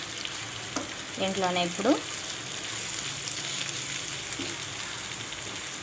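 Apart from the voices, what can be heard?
garlic cloves frying and being stirred in a pan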